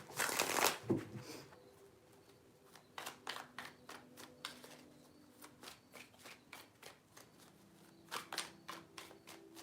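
Cards are shuffled close up: a quick riffle burst, then a rapid series of soft crisp flicks and taps in uneven clusters.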